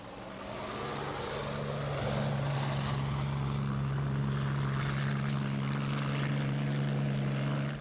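A steady low rotor drone with a strong tonal hum, building up at the start and holding constant, no voices.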